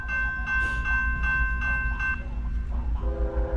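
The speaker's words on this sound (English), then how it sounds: "Sunday morning, first train of the day." A Norfolk Southern freight train, 29G, rolls past led by four locomotives on a Sunday morning, a loud steady low rumble with sustained horn-like tones throughout, continuous and close.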